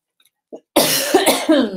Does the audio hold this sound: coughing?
yes